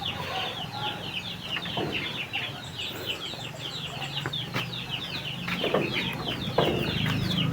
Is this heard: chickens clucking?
yes